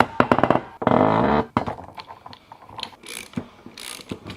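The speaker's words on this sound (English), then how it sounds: "I can push the hub out with my new hydraulic gear puller" A hydraulic gear puller pushing a wheel hub out makes a burst of rapid ratcheting clicks, a sustained mechanical groan, then scattered clunks and creaks, close and fairly loud.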